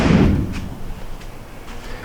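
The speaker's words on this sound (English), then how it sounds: "Get this door to close." The door of a 1948 Ford F1 custom panel truck slams shut with a single solid thump at the start, then fades into faint background noise.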